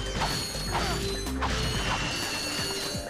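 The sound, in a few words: collecting bolts in the video game Ratchet & Clank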